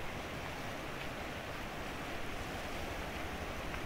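A river whose flow has been reduced after a landslide partly buried its channel gives a steady, broadband rushing wash that stays constant throughout, close and fairly loud, with no talking.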